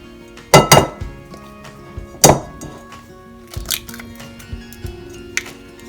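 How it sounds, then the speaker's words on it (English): Eggs are cracked into a bowl for banana oatmeal pancake batter, heard as a few sharp close taps and clinks against the bowl in short clusters with quiet gaps between them. "Okay, so I'm going to add 2 eggs, and that will help me just mash it nicely."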